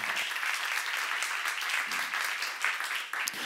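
A church congregation applauds during a seminar at a Korean church, with loud, continuous, close-sounding clapping that holds steady throughout.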